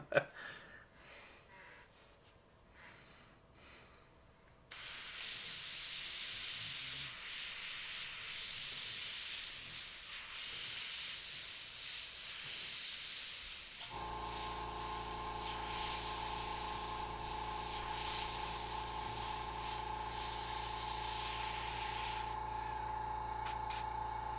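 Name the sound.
airbrush spraying paint on clock skeleton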